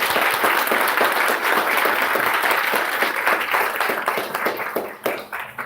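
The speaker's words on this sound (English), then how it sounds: "could we give them a round of applause?" A crowd at an annual company celebration applauds staff, a loud, dense wash of clapping that holds strong and then thins and fades toward the end, with no voices.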